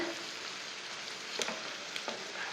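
Spices sizzle and fry steadily in a pan of okra for bhindi, a close, continuous hiss with a couple of soft stirring knocks and no talking.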